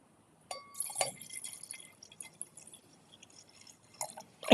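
Wine sloshed into a glass, with a short splash and trickle of liquid followed by faint dripping and a final louder pour, near and quiet with no talking.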